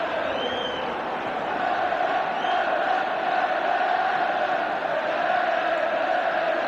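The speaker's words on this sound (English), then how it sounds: "The whistle has gone, totally drowned by the crowd." Old Trafford football stadium crowd roaring at Manchester United versus Juventus in the 1976-77 UEFA Cup, a steady massive wall of cheering and chanting, distant and continuous.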